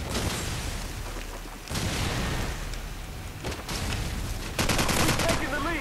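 Rapid bursts of AK rifle fire from a video game match with host-style weapons, loud and dense, with several separate volleys and a sharper burst near the end.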